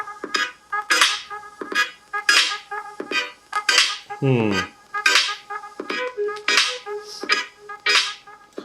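A song blasting at full volume from the front-firing stereo speakers of an ASUS ROG Phone 2, loud and rhythmic with punchy beats and slightly distorted mid-range, heard close up.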